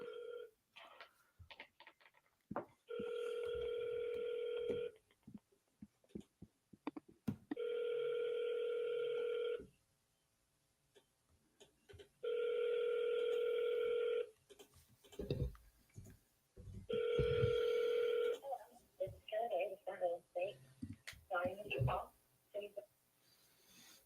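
Outgoing phone call during a live seller-calling session, with four long repeated ringback tones spaced by pauses amid clicks and keyboard tapping, and people talking quietly in the gaps.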